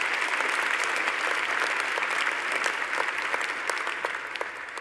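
Steady applause from a graduation ceremony audience for newly graduated medical students, a dense even clapping that carries on and tapers slightly at the end.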